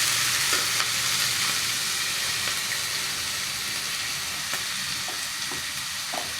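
Food fries in a pan with a continuous soft sizzle, broken by scraping stirs at irregular moments.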